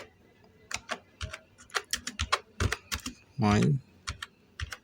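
Keys clatter on a computer keyboard in quick, uneven bursts while someone talks over the typing.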